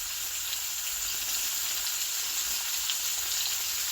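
Beef sausage dogs and onions frying in a pan, a steady, close, dense sizzle with crackle running unbroken throughout, no talking.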